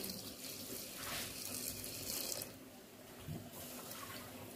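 Water pours steadily into a pot of chickpea curry, a soft continuous splashing gush that thins out partway through, then trickles quietly.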